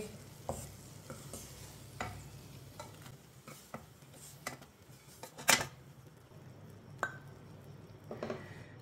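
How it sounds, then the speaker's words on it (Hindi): Semolina being stirred and lightly browned in a pan, with a soft low sizzle under scattered scrapes and clinks of a spoon against the pan. "सौंगी को मैंने हल्का सा ब्राउन कर लिया है।"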